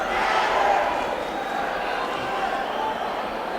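Crowd at a Friday night boxing bout cheers in a sustained, broad roar, a commentator's voice running over the noise.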